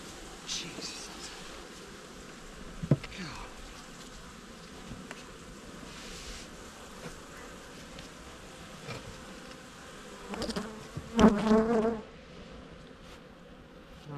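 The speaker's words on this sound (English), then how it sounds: "They are bubbling with bees." A full nucleus hive of honeybees opened during an Api-Bioxal trickle treatment, giving a steady close buzzing drone throughout, with a few louder knocks and rustles of the hive being handled near the end.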